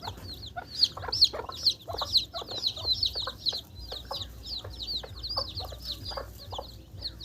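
Hens clucking among their newly hatched chicks, raised from a home-made incubator, in a steady run of soft rhythmic calls and high peeps close by, with a low background rumble.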